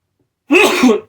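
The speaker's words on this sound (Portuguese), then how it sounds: "Peraí que eu vou espirrar" A single loud, close sneeze bursts out after a moment of silence, sharp at the start and trailing off within about half a second.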